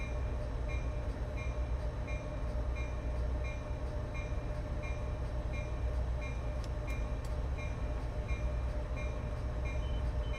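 Modded Caltrain sound in Train Sim World 6 on the Peninsula Corridor: a steady low rumble of rolling train cars with faint rhythmic clicks and a brief high squeal, continuous and fairly quiet, no talk.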